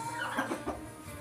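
A native hen sitting on eggs gives a few soft, short clucks nearby, quiet and brief against a faint background.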